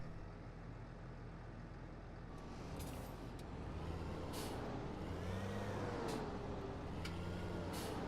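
A Deutz-Fahr Agrotron L/X 700 series tractor starts up in Farming Simulator 2017: a steady low engine rumble and hiss with a few brief sharp air-release bursts, fairly quiet and heard alone.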